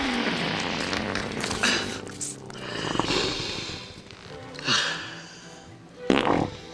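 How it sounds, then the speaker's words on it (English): Fart sound effect in the horror comedy Bordello of Blood, a series of drawn-out, rumbling blasts at varying loudness over several seconds, with no speech. "That's funny because fart."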